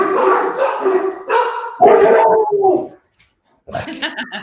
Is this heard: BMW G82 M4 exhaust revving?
no